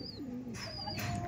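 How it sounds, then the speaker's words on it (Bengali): A male Kalasobuj Kaldom pigeon at a loft gives short, tonal coos, some gliding in pitch, close and fairly quiet, with no talking. "দেখুন এটা ছিল নর পায়রা"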